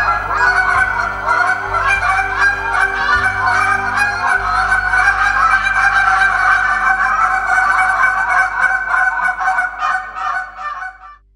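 Loud, continuous honking goose calls blown by a team at a goose calling championship in Maryland, rapid layered honks overlapping with no pauses.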